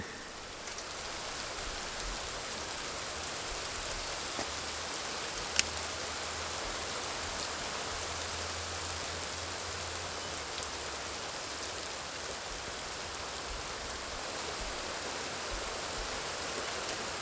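Steady rain falls throughout during an outdoor painting session beside an old corncrib, a dense, even hiss with no breaks and no voices.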